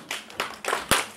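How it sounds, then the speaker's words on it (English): Small audience at a speakers' club meeting clapping for the host in a few short, uneven bursts of hand claps, close and fairly sparse. "Give her a clap."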